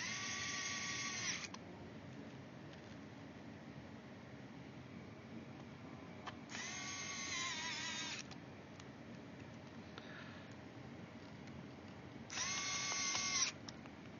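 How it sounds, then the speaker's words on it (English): An electric screwdriver drives the fan screws back into an MSI Pulse GL66 laptop during repair. It gives three short, faint whirring bursts spaced apart over a low background hiss. "gonna put the fan screws"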